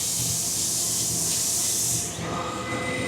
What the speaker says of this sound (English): Machine's gonna start.